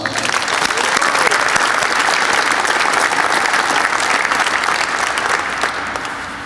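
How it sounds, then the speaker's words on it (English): Sustained applause from a large crowd, steady and loud throughout, easing slightly toward the end. "Let's give the Gibsons a round of applause."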